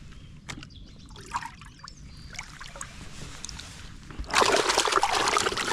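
Water trickles and splashes inside a small fishing boat on a lake, with scattered drips and knocks, then a louder steady rush of water near the end.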